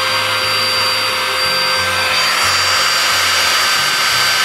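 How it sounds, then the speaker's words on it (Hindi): A portable mini 2-in-1 home and car vacuum cleaner runs continuously with a loud, steady motor whine and airy hiss, close to the listener, with no talking. "ऑन तो हो गया है, आवाज़ भी बिल्कुल वैक्यूम क्लीनर जैसी आ रही है।"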